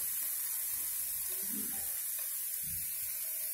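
Water from a quarter tumbler poured over salted purple cabbage in a cooking pan, a soft splashing pour heard in two short bursts close by with no talk.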